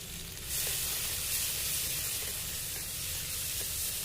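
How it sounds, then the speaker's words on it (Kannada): Tomatoes frying in oil in a pan for spicy chicken pulao, a soft, steady hiss of sizzling that rises after a brief quiet start and continues evenly. "ಟೊಮೊಟೊ ಹಣ್ಣು ನೀಟಾಗಿ ಫ್ರೈ ಮಾಡ್ಕೊಳ್ಳೋಣ"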